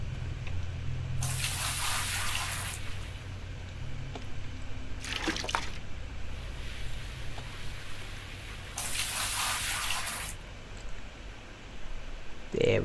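Water rushes through a dirt-washing machine in the Gold Rush video game, coming as three separate gushing bursts of splashing flow over a steady low background hum.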